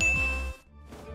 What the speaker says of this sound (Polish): O, szef dzwoni.